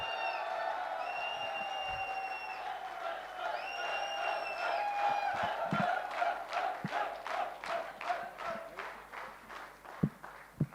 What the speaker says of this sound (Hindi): तालियां एक बार दमदार।